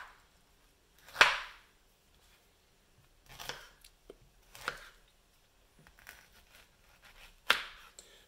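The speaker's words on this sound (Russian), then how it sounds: "Ну и сейчас я разрежу на долечки, и мы попробуем," A knife cutting a Newhall or Lane Late navel orange into wedges, giving four or five separate crisp slicing strokes spaced a second or two apart with quiet gaps between.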